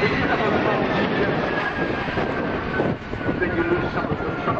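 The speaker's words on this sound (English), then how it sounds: "The jet engine is what is called a centrifugal compressor, a short, stubby engine" A jet aircraft with a short, stubby centrifugal-compressor engine roars steadily at the Southend Airshow, a loud continuous broadband rumble with wind buffeting the microphone, while someone speaks over it.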